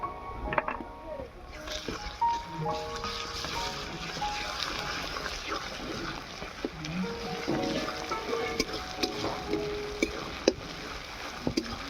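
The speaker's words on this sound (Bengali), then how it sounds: "আদা রসুনটাকে আমি একটু ভাজা ভাজা করে নেব" Ginger and garlic paste fries with onions already reddened in a pan for a chicken curry, a soft crackling sizzle with occasional scraping stirs, fairly quiet and steady throughout.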